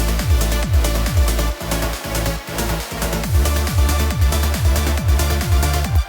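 Uplifting trance passage running without its kick drum, a loud, full mix of sustained synth layers and bright percussion with repeating sweeping bass drops, continuous and busy.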